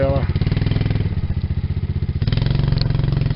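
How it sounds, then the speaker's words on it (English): A four-wheeler engine chugs with a steady, throbbing idle nearby as a helper rides it, the pulsing note dipping briefly and then returning louder. "He's riding this four-wheeler"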